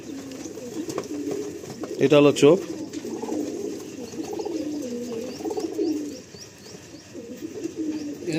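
Pigeons coo softly in a pigeon loft, low repeated murmuring calls running throughout beneath a voice, with a louder burst of speech partway through.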